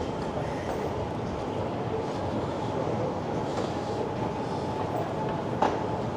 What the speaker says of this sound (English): no, that's a train. It's some sort of train